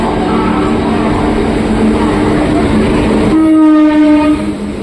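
Dadar Ajmer superfast express hauled by a Vadodara-based WAP-7 electric locomotive, a steady loud rumble of rolling train wagons with a long sustained horn blast sounding near the end, no talking.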